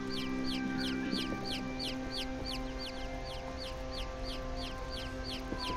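Chickens cluck in a rapid, steady series at a chicken coop in the video game Niffelheim, a busy run of short calls over a constant game background with no talk.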